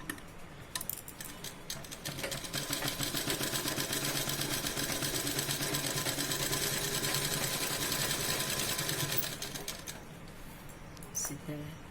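A sewing machine stitches the side seams of an A-line nighty in one long, steady run of rapid ticking needle strokes, with softer handling noises before and after.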